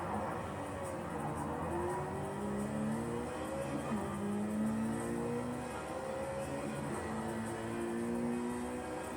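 Race cars in the video game Project CARS 3 during a close multiplayer race, several engines droning and revving together continuously with rising and falling pitch as cars shift gears.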